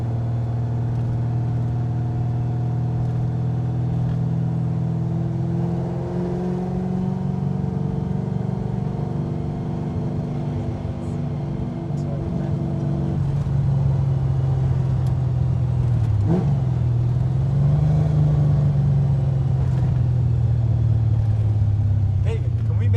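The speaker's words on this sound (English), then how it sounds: "single carbureted 383 stroker with a little bit of compression and a good healthy camshaft" Rumbling exhaust of a 1980 Chevy Camaro Z28 restomod with a carbureted 383 stroker, healthy camshaft, gear drive and Flowmaster mufflers, heard steadily from inside while cruising, with a rev change partway; people talk over the engine.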